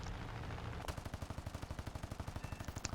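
A P-51C's wing machine guns in War Thunder air combat fire a sustained, evenly spaced burst of heavy rapid thuds, loud and close, starting abruptly after a steady engine drone, with no talk.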